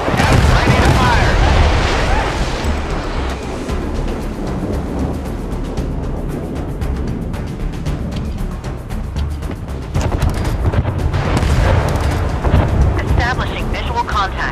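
Warship guns firing in the naval video game Force of Warships make repeated booming blasts that layer into dense, rumbling artillery fire over a constant battle din, with heavier bursts near the start and toward the end.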